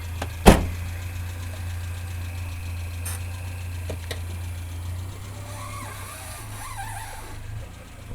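An old car's engine idles steadily with a low, even hum and slight knock, preceded by a sharp thump near the start, then continuing alone with faint higher noises toward the end.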